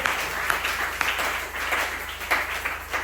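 Applause at a Thursday prayer exhortation gathering, a steady wash of clapping from a congregation that continues throughout at moderate level, with faint voices and a low rhythmic hum beneath.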